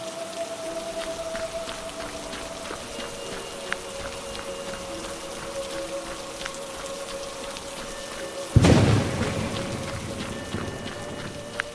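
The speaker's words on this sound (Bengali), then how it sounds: "এমন সময় আচমকা বৃষ্টির গতি বাড়ল" Heavy rain patters steadily with a dense wash of drops, then a sudden loud crash like thunder breaks in near the end and rumbles away.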